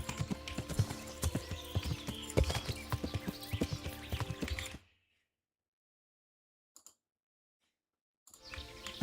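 A horse's hooves clip-clop at a brisk, irregular trot in the video game Kingdom Come: Deliverance, close and clear for several seconds before stopping into near silence, with a few faint knocks and the hoofbeats resuming briefly at the end.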